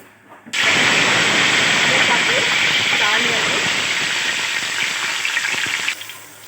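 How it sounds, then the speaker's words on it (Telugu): Mustard seeds and cumin hit hot oil in a kadai for a loud, steady hiss-and-sizzle that starts abruptly and holds for about five seconds before cutting off. "ఇప్పుడు దాంట్లో కొంచెం ఆవాలు, జీలకర్ర రెండు వేసేసాము"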